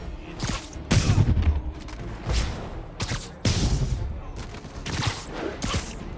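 Bursts of enemy gunfire in Marvel's Spider-Man video game, several loud volleys and booms in quick irregular succession, with faint voices and whooshes between them.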